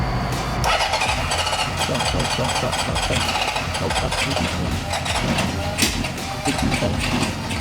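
A 1974 Honda CB750 motorcycle engine cranks and catches on choke, then runs with a rough, steady idle over a continuous mechanical roar, not revving up with throttle, with people talking over it.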